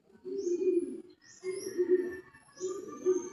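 Racing pigeons coo at the loft during a derby: three soft, throaty cooing phrases, each about a second long, close by with faint higher chirps above and no talking.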